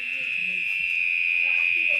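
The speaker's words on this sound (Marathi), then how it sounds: "किती छान रातकिड्यांचा आवाज" In a quiet village in Meghalaya, insects, likely crickets, hold one continuous high, even trill that stays loud and unbroken, with faint low murmurs beneath it.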